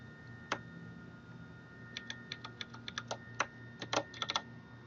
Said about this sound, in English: I'll be typing in this formula basically